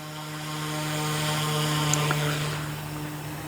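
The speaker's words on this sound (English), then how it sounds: "Then I try to bring the helicopter to the place where I want it to be." Steady whining rotor hum of a small model helicopter, holding a constant pitch and swelling slightly as it passes, with no voices.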